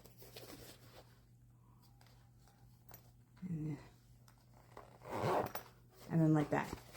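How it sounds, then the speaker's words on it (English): Zipper on a handmade waterproof pouch being zipped in short raspy bursts, close and fairly soft, with quiet pauses between pulls and a voice talking in places. "So that's how it's going to zip up."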